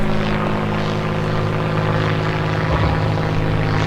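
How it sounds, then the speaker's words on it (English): A propeller airplane drones overhead in a steady, loud, continuous roar that holds without a break and with no talk. "freaking airplanes."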